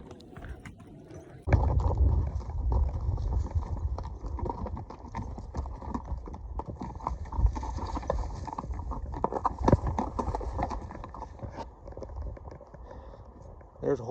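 Horses walk a wilderness trail in Arizona's Blue Range country, their hooves clip-clopping in a close, steady, uneven rhythm for most of the stretch, with riders talking over the sound.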